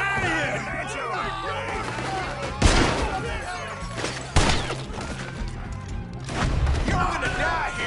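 PS4 gunfight with several loud, sharp gunshots scattered irregularly through the moment, ringing over shouting voices and background commotion.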